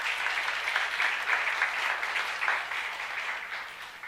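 A church congregation at a youth retreat sermon claps together in a full, rippling burst that holds strong and then eases slightly toward the end, with no speech over it.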